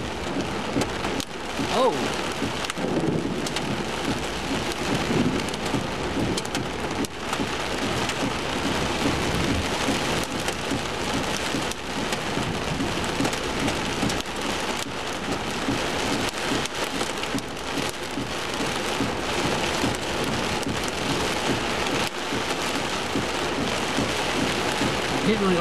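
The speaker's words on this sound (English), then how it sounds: "you can clearly tell there's hail bouncing off my truck everywhere" Hail in a severe thunderstorm pelts a truck in a constant, dense clatter heard from inside the cab, with a brief spoken exclamation.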